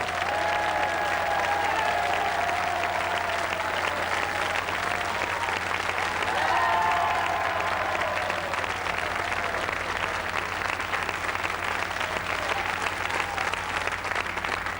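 Sustained, dense applause from a big crowd greets Jacques Lang at a 1987 carnival broadcast, steady and loud throughout with a few voices faintly audible.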